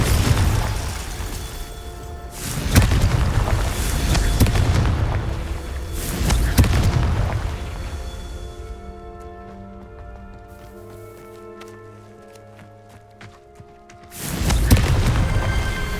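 Spell effects from the Hogwarts Legacy video game, ending in a Confringo blast: several loud, booming bursts of magic about four seconds apart, with a quieter shimmering stretch before a final heavy blast.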